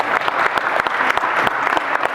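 A graduation audience bursts into dense, continuous clapping, loud and close, with scattered sharper claps throughout.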